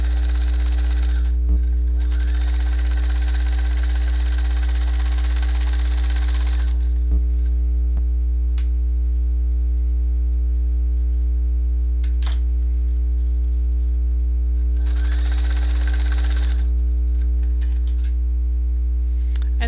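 A home sewing machine runs steadily under a strong mains hum while stitching straight seams on a jacket, with two longer whirring runs at the start and near the end.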